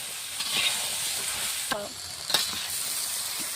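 Potatoes and ridge gourd frying in a pan give a steady, close sizzle, with a few scraping stirs of a spatula breaking through briefly; no one speaks.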